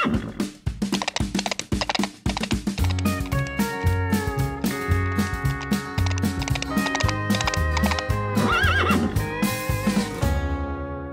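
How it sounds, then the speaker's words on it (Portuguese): Horse neighs sound within a Portuguese-language children's farm song, Old MacDonald, mixed with sung vocals and steady upbeat music throughout. "E nessa fazenda ele tem um cavalo. I-a-i-a-i-o. Um relincho aqui, um relincho ali."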